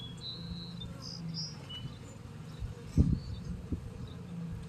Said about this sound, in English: I got a couple bees coming and checking me out